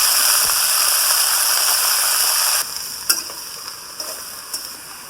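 Sliced ash gourd goes into hot oil with five-spice seeds and sizzles loudly and steadily, then the crackle drops to a softer fry punctuated by a few sharp pops and stirring knocks.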